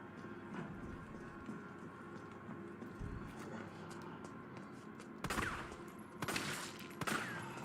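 Gunfire in the Resident Evil 3 (2020) video game: quiet background game noise, then a few sharp, loud shot bursts near the end, spaced apart.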